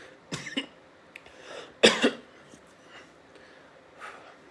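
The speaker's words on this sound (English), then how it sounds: "Sorry, I'm coughing." A person coughs several times in short, sharp bursts close to the microphone, the loudest in the middle, with quiet gaps between.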